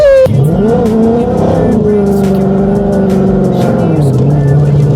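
A Ford Mustang sliding on a wet, rainy street, its engine revving hard and tires squealing in a loud, sustained drift heard close up from inside the car, with no speech over it.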